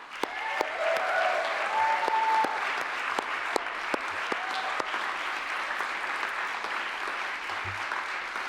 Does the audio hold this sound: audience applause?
yes